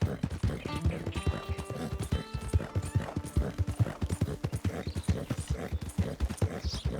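Horse hooves clip-clop steadily in Red Dead Redemption 2, a close, regular trotting rhythm running throughout, with a brief whinny and faint game music underneath.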